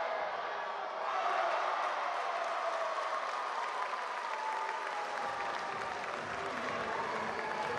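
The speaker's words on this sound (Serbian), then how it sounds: "Ubrzo Lukao novim golom podiže publiku" Crowd at a Croatian futsal league match applauding a goal, a steady broad wash of clapping and cheering that swells after the first second and holds at even volume throughout.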